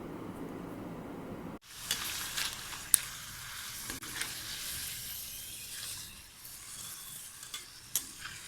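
Sliced potato chips dropped into hot oil in a pan burst into a loud, close sizzle that settles into steady bubbling hiss with occasional sharp pops, no talking.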